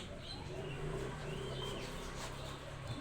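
Pet lovebirds give short chirping calls over a steady low background, close by and moderately loud, with no clear talk.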